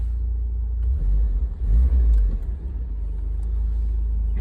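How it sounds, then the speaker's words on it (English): A 1984 Spider's engine idles low and steady while the car reverses, a close rumbling drone that swells briefly in the middle before settling back. "Car goes nicely in reverse."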